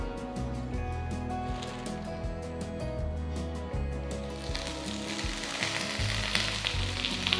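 Gongura leaves, stripped from their stems, fry in a teaspoon of oil with a steady, close sizzle that runs throughout alongside a droning, tonal hum in the background.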